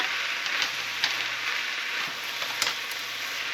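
Onion sautés with steak in a pan for beef enchiladas, giving a steady, close, broadband sizzle with a few small pops and stirring clicks, heard alone without talk.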